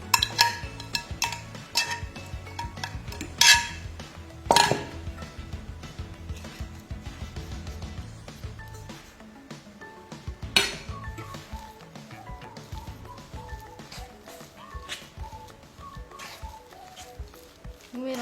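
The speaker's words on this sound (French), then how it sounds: "Vous mélangez le tout." Mashed banana being stirred into a flour, egg and sugar batter in a bowl, with irregular scraping and soft clinks of utensil against dish, some louder knocks, close by with no talking.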